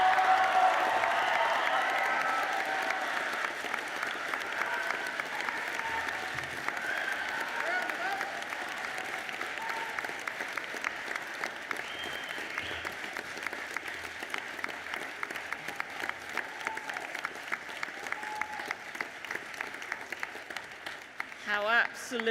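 Graduates at a December graduation ceremony for a college of education, psychology and social work applaud and cheer their families, a dense sustained roar of clapping with whoops that holds steady then slowly thins.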